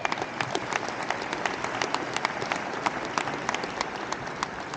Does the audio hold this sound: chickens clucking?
no